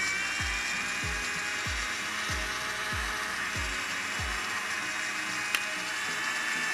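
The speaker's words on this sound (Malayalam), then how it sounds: "ജാറിലേക്ക് ഇട്ടിട്ടുണ്ടെങ്കിൽ നമുക്കൊന്ന് അടിച്ചു കൊടുക്കാം." A mixer jar blends an Oreo shake with banana and sugar, a loud steady whirring motor with rhythmic thumping pulses, close up and alone.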